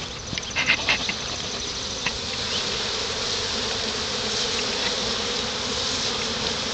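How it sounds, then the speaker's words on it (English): A dense swarm of honeybees buzzes steadily while being brushed off a comb into a hive, a close, continuous drone with a few brief scraping brush sounds near the start. "We're gonna brush these bees into here nice and gently."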